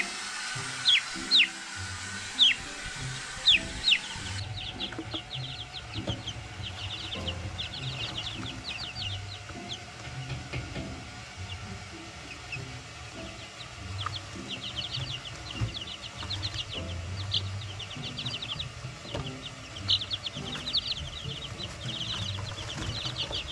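A young Isa Brown chick peeping for its siblings, with repeated high, thin chirps coming in quick bursts throughout, close but fairly soft over a low rumbling background.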